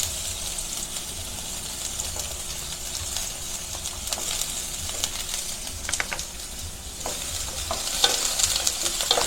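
Onion and garlic sizzling in a pan for batchoy, with a steady hiss of frying and scattered clicks and scrapes of stirring throughout; moderate level, close, with no talk.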